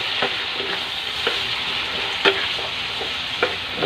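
Chayote, carrots and potatoes stir-fried with tofu and button mushrooms crackle in a pan, a steady close sizzle broken by a few sharp clicks of a spatula against the pan, with no voices.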